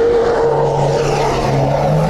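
Car engine roaring on a rallycross track, a loud, sustained, steady drone held close throughout with a slight shift in pitch.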